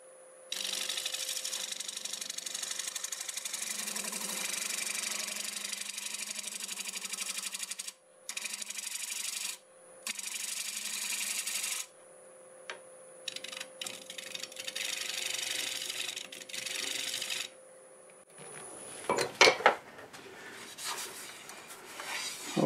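Wood lathe spinning a curved bowl made from a board at about 700 RPM, a steady motor whine under bursts of hissing, scraping cuts that stop and restart, ending in a brief clatter.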